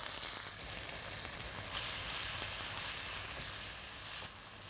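Ginger paste and spice paste frying in a pan give a steady, close sizzle that runs through the whole stretch, swelling a little in the middle, with no voices.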